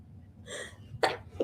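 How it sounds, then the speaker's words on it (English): Two sharp sneezes in quick succession during a drawing session, the first a softer breathy burst and the second a louder, abrupt explosive one, with another starting at the very end; close and clear over a quiet room. "Achoo! Achoo!"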